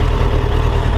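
A Suzuki GSF1200S Bandit four-cylinder motorcycle engine idles steadily after starting, a loud, continuous low rumble with an even mechanical hum and no voices.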